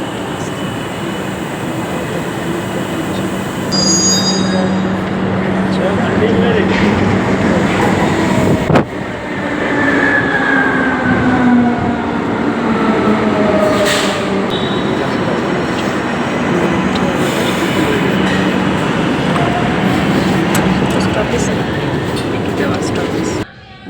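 Loud rumble of a metro train running near Rabindra Sarobar, with rising and falling wheel squeals and occasional clunks, a voice speaking briefly over it.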